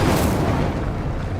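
Incendio fire spell cast in the video game Hogwarts Legacy, a loud, full whooshing burst of flame with a booming roar that holds steady, then eases slightly.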